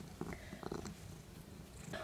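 A cat purrs loudly at close range, a soft rumbling drone with faint clicks and small rustles, lasting about two seconds with no speech.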